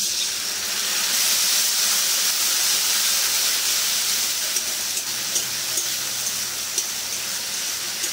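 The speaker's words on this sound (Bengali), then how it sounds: "আদা রসুনের পেস্টটা ভালো করে কষিয়ে নেবো, কাঁচা গন্ধ যাতে চলে যায়" Ginger garlic paste sautés in a pan with fried onion paste, giving a steady, fairly loud hiss that runs unbroken with no voices.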